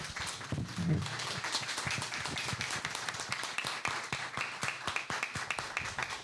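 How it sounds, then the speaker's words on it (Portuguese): A steady round of applause from an audience honoring a doctor on Doctor's Day, with dense, even clapping that holds at moderate volume from start to finish. "Uma salva de palmas"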